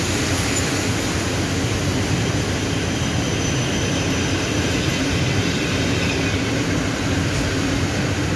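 A summer night passenger train with a sleeping car and four ordinary coaches passes at a Bydgoszcz station, producing a steady, loud rolling rumble and broad rushing noise that holds evenly throughout.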